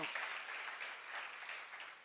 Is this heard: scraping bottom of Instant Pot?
no